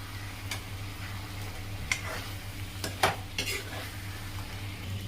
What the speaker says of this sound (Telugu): ఈ ఆనియన్ అనేది కలర్ మారేంత వరకు మనము చూసుకుంటూ ఉండాలన్నమాట, కలుపుతూ ఉండాలి.